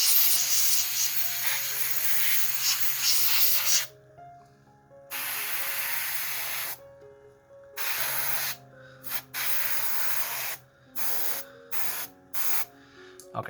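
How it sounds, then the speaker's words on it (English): An airbrush sprays paint onto a diecast car being built for Gaslands, in long hissing bursts that start and stop. The bursts get shorter and choppier toward the end, and no one talks. "airbrush is doing the job for me"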